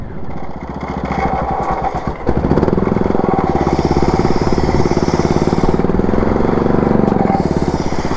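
A lawn mower engine, modified in an attempt to reach 70 mph, revs in forward gear. After a brief lower idle it jumps into a loud, steady, buzzing drone that holds strong and close for several seconds.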